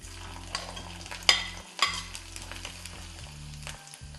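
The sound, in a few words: ginger frying in oil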